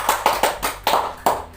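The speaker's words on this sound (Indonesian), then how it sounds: "Tepuk tangan." Students clap in a classroom in five quick, loud bursts of applause, each fading before the next.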